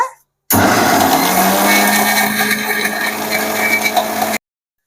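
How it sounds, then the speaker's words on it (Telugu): A kitchen mixer grinder whirs loudly as it grinds garelu batter from soaked lentils, starting abruptly, running steadily for about four seconds with a slightly wavering pitch, then cutting off. "మిక్సీకి అయితే పట్టుకుందామండి గారెపిండి మిక్సీకి అయితే పట్టుకుందాం"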